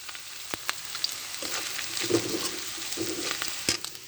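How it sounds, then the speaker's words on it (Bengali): Ginger and garlic frying in a pan until deep brown, giving a steady, close sizzle with a few small pops and stirring scrapes, no voices over it. "রং করে ভেজে নেবেন।"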